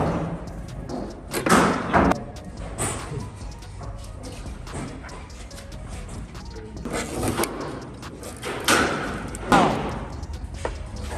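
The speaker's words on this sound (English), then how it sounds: "So let's go ahead and start knocking this quarter panel off." Repeated heavy knocks and thuds sound as a damaged quarter panel is worked off a Mercedes CLS63 AMG in a body shop, coming in irregular clusters of sharp metallic impacts with quieter gaps between them.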